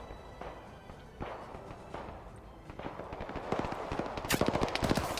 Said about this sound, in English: They shot out the driver real quick.